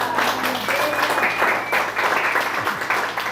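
A church Bible-study audience applauds at the close of a study of the letter of First Peter, a thick, steady wash of clapping.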